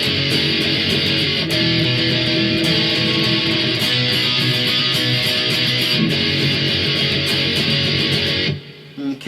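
Heavily distorted electric guitar plays power chords for the bridge of a song, a loud continuous wall of crunching chords that cuts off sharply just before the close.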